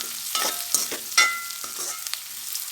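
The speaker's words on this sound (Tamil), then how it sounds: "போட்டுட்டு அனல் கொஞ்சம் குறைச்சி வச்சு வதக்கலாம்" Garlic sautéing in a hot pan on lowered heat for vegetable semiya kichadi, a soft close sizzle with several sharp stirring scrapes, no voices.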